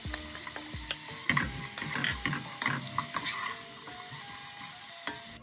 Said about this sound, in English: Then add the onions and let them fry.